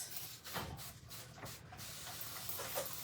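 A spray bottle misting water for a watermelon tray craft, giving a steady, close breathy hiss that runs the whole time with a few slightly stronger puffs.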